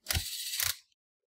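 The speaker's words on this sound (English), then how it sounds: "And now all the screws that goes in." Close mechanical whirring from an electric screwdriver driving screws into an HP 14 laptop, two short bursts in quick succession.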